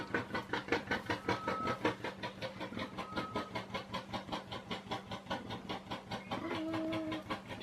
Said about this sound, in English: he's making that train-like noise in an effort to mate with her